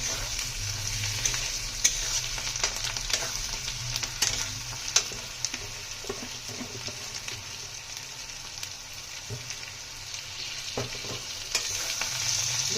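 Chopped, washed coriander leaves fry in hot oil in a kadai alongside vegetables, giving a steady, close hiss with scattered sharp crackles and small pops throughout, no talking.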